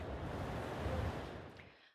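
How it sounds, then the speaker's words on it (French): Wind builds on the Normandy coast at Granville as Storm Ciaran approaches, a steady broadband roar mixed with surf that stays even and then tapers off near the end, with no voices. "À Granville ce soir, le vent commençait doucement à se lever."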